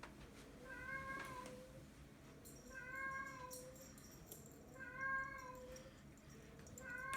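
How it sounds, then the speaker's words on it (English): A recorded cat yowls from a phone sound app in repeated drawn-out wails about every two seconds, fairly faint with a low background hum and no talk. "Now playing cat yowling."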